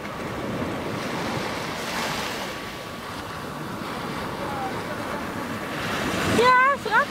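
Sea waves wash steadily onto the beach at Scheveningen, a close, continuous surf roar with wind buffeting the microphone, and a short high-pitched call rises near the end.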